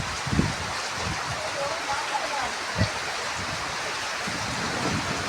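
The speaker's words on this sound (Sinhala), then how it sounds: "අයියෙන් වැස්ස පටන් ගත්තනේ" Rain begins falling outdoors in a rural Sri Lankan setting, a steady broadband hiss of drops with a few low thumps, while voices speak briefly over it.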